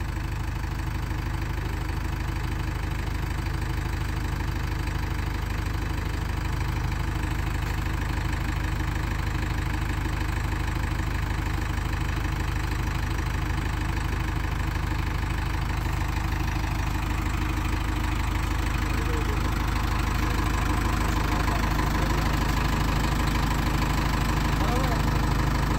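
A 2020 JCB 3DX backhoe loader idles steadily for the whole stretch, a constant low, throbbing diesel drone with a faint knock, close and unchanging, with voices faintly beneath it.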